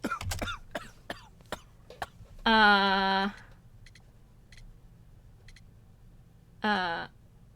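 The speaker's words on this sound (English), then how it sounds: "You have a severe cough." A sick man in the game Sherlock Holmes: The Devil's Daughter gives a few harsh coughs and throat-clearing sounds, two bursts separated by quiet ticking, close and moderately loud.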